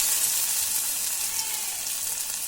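Pointed gourd vine fritters sizzle in hot oil, a steady, crackling fry heard on its own with no talking.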